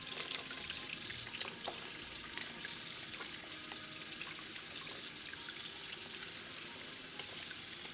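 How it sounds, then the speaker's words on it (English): Steady running tap water splashes continuously into a sink, with faint wet rustling of napa cabbage leaves being rinsed under the stream. "Rinse the cabbage in running water."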